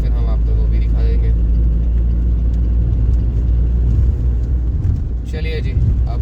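A car cruises along National Highway 44 with a constant low road rumble and engine drone from inside the cabin, while people talk over it for most of the stretch.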